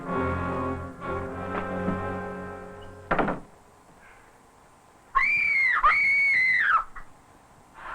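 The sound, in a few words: person screaming in an old film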